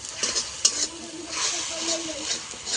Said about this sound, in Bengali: টমেটোটা আমি 2 মিনিটের মতন ভেজে নেব।